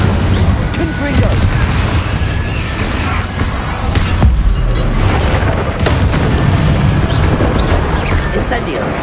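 Loud, rumbling Confringo spell explosions go off one after another in Hogwarts Legacy during a fight with Inferi. The booming and bursting is dense and continuous, with spell incantations called out between the blasts.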